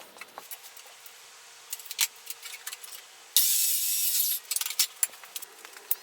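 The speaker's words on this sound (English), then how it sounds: "I've cut the aluminum I-beams in half" An aluminum I-beam is cut in half for a 1968 Corsair trailer, with scattered metallic clinks and handling knocks around a short burst of loud, harsh cutting noise in the middle.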